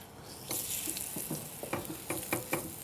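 Chicken pieces browning in a hot pan for chicken piccata, a steady close sizzle with a few scraping stirs and clinks near the end, no talking.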